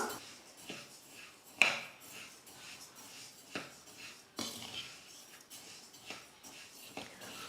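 Rice and lentils being dry-roasted on low flame for Tamil ven pongal, with a spoon scraping and clinking against the pan in irregular strokes, soft and close with no talking.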